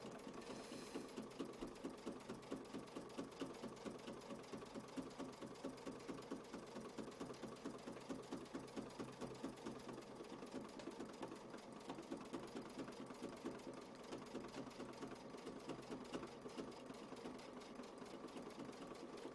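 A sewing machine stitches a quilt block at a slow, steady pace, its needle chattering in an even, continuous rhythm at close range with no pauses or voices.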